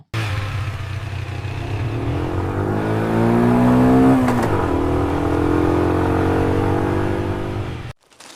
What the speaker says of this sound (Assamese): দেউতাই বাইক কিনি চলাই চলাই ঘৰলৈ গৈ আছে